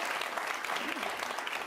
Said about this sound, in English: let's have a round of applause for our volunteers who ate on stage